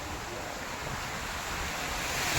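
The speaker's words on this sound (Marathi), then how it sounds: "या साईडला पुरा मरीन ड्राईव्ह आणि मोठमोठ्याला लाटा येत आहेत भलत्या वेगानं" Big sea waves at Marine Drive, Mumbai roar in a steady, broadband wash, mixed with wind buffeting the microphone and swelling slightly at the end.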